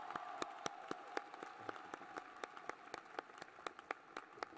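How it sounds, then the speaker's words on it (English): A commencement crowd at the City Colleges of Chicago 2023 ceremony applauds valedictorians. Steady, distant clapping runs throughout, with a few sharp, rhythmic claps standing out close by. "Let's give them a round of applause."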